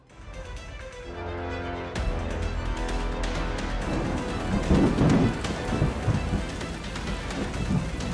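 Heavy rain pours steadily while a deep rumble of thunder rolls underneath, swelling midway and staying loud throughout.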